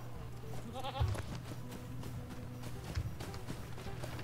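Goat bleats in a video game, a couple of short wavering cries over steady hoof clip-clop and ambient game noise.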